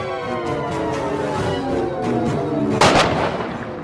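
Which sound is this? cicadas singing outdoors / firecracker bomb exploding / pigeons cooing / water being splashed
firecracker bomb exploding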